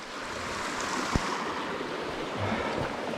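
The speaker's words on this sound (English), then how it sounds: "there's a side creek here. It's got a little cascade coming down" A small cascade in a side creek among large boulders gives a constant rushing wash of water, broadband and steady, with one sharp knock partway through and no talk.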